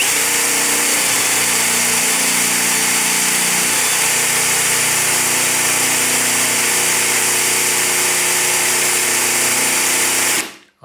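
A power drill runs continuously at a steady pitch while slowly boring a clean hole with no blowout, loud and close for about ten seconds before cutting off abruptly.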